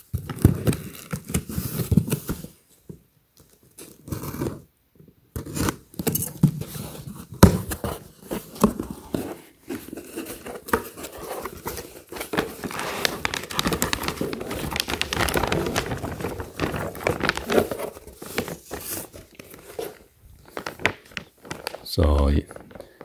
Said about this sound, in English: I might want to say unbox it or unwrap it.